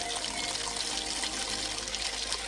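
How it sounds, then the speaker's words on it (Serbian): Water pours steadily into a plastic container of nettles being steeped for organic fertilizer, a continuous close splashing rush that holds even for the whole stretch. "Sipajte vodu slobodno da prekrije koprivu."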